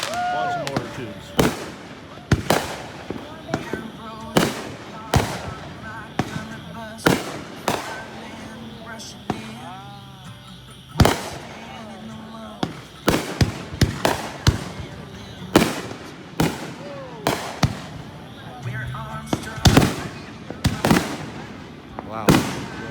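Backyard fireworks launched from mortar tubes on July 4th in Fort Myers, Florida, give a long run of sharp, loud thumps and cracks, some clustered, others spaced apart, with crowd voices between bursts.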